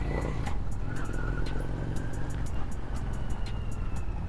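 A 1997 Honda Steed 400 cruiser motorcycle rolls along at low speed, about 30 km/h, its engine giving a smooth, steady drone with no spluttering, recorded up close while riding, with wind rush over the top.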